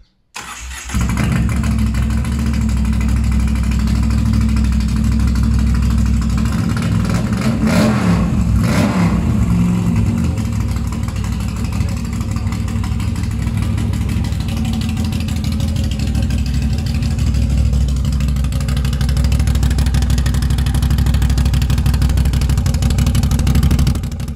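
A car engine with an open, straight-through exhaust running only the tip: a loud, steady low rumble with a brief sharper rev partway through, no voices.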